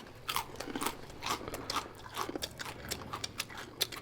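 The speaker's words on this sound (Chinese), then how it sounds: "这个馕也是做的好。 嘎嘣脆啊" Crisp bites and chews into dry, crunchy fried naan, eaten with stir-fried mutton in Xinjiang style, make a close series of sharp crackly crunches in an irregular rhythm, with no talk.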